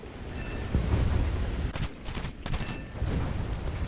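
Machine guns on an F4U-4B Corsair fighter in War Thunder strafing ground targets, heard as dense, sustained bursts of rapid fire over a constant engine roar, with brief pauses between volleys.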